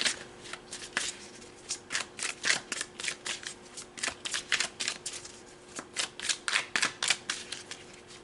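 Tarot cards are shuffled by hand in a steady series of soft, riffling flutters and light slaps, close up and quiet with no talking.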